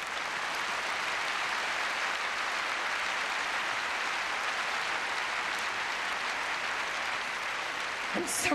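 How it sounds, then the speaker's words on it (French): A large crusade audience applauds continuously, a dense, loud, even wash of clapping that lasts the whole stretch and ends with a brief sharper burst. "Oui, applaudissez Jésus."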